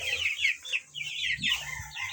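Several Rhode Island White cross chickens cluck and chatter nearby in a backyard coop in quick, overlapping bursts, with a low murmur of farmyard background underneath.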